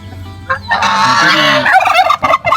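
A turkey, or a goose kept alongside it, calls loudly in a rapid, bubbling gobbling burst, repeated in quick rattling runs close by with no talk over it.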